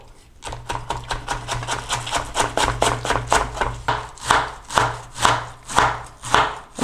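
A knife chops cabbage on a board in steady, rhythmic strokes, about two per second, that grow louder and crisper over a low constant background hum.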